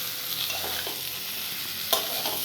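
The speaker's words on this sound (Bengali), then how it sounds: "এইবারে এই পটলটা দিয়ে কষিয়ে নিয়ে," Pieces of pointed gourd (potol) sizzle steadily in a pan while being stir-fried, a close continuous frying hiss with soft spatula scrapes and one sharper clack, no talking.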